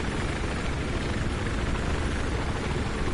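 Steady, loud rotor and engine roar from a helicopter flying in the video game Battlefield 4, unbroken and close throughout, with no voices.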